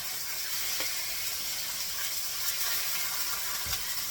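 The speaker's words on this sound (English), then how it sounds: "we're going to flip those. We want to get them a little bit browned on each side." Pork chops sizzle in a hot pan as they are flipped to brown on each side, a steady close hiss of frying with a couple of faint clicks and no talking.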